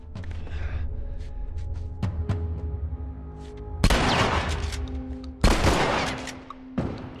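Sniper rifle fire in The Last of Us: two loud, sharp blasts with a long ringing tail stand out over a steady rumble of game ambience. Several smaller thuds come before them.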